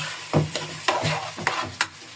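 Garlic and ginger paste frying in a pulao pot, short bursts of sizzle and spoon scrapes repeating about every half second, close and alone without talking.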